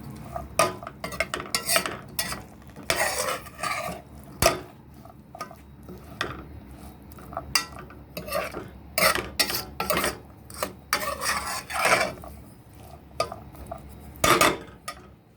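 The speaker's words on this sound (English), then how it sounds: "stir everything in" Spices being stirred in a pot on a stove over a medium-low flame, with frequent close metallic clinks and scrapes of a spoon against the pot in an irregular rhythm.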